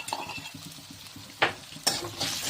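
Ginger, garlic and green chili paste gets stirred in a pan with rohu fish and yam, giving soft rhythmic scraping over low sizzling and two sharper clinks of the utensil against the pan, close and without voices.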